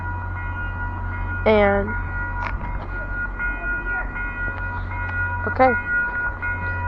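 An MBTA Purple Line commuter train passing Norfolk station rumbles steadily with a low engine drone, while metallic squeals and screeches cut through; a person speaks briefly.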